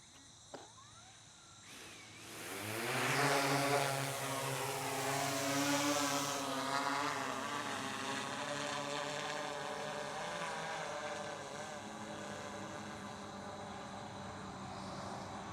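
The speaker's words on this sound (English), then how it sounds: "I wanna get the drone up in the air and just show you some of the features" A DJI M30T drone spins up and lifts off, its steady, loud propeller whine rising in pitch and then holding as a sustained buzzing hum with faint insect chirps in the background.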